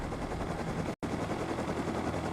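A minicopter in the survival game Rust flies steadily with a dense, continuous rotor and engine drone, loud and close, with one abrupt instant of silence near the middle before the drone resumes.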